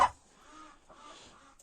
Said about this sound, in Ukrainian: індики породи червоний бурбон і узбецька палива